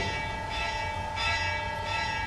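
A church bell in Vrindavan rings on and on with a sustained metallic tone that swells roughly every half second, steady and fairly loud, with no speech over it.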